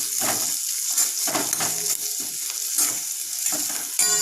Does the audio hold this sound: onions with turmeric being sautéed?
yes